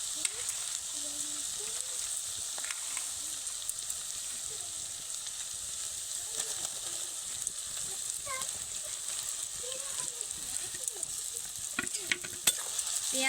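Chopped onion stir-fried with ginger garlic paste in oil, a continuous sizzle with frequent scraping and clinking stirs from a spatula, close and steady throughout.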